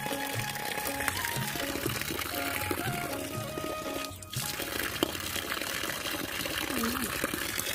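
Water flowing from a village spout at a scenic hillside spot, a continuous splashing, pouring rush that stays steady throughout, with faint background music and voices mixed in.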